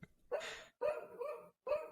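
A dog barking three times in a row at an even pace, sharp and fairly close, with short silences between the barks and no talking.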